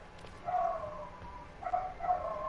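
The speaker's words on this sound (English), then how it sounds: "I hear a dog." A distant dog barks outdoors, a few soft, spaced woofs that stay faint against a quiet background.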